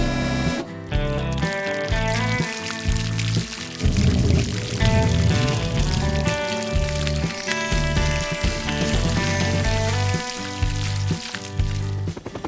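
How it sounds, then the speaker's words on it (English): Cartoon sound effect of cement being poured for a new bridge: a thick glugging, splashing pour with bubbling and dripping, set over bright, playful background music. "I'll pour the cement."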